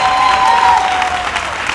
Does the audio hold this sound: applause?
yes